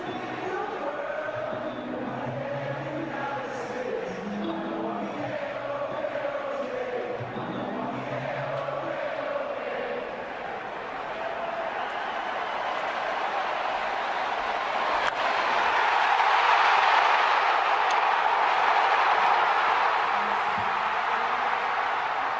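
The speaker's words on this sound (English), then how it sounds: "just listen to the atmosphere and energy from the crowd on this play" A Phillies home crowd at a baseball stadium erupts after a grand slam. Voices speak at first, then the crowd noise swells into a broad, rising roar in the second half.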